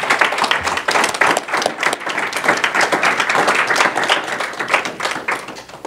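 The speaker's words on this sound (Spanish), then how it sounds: "damos un fuerte aplauso para despedir las ofrendas" Audience at a church gathering gives a strong round of applause to send off the offerings, dense rapid clapping held steadily throughout, fairly close and loud.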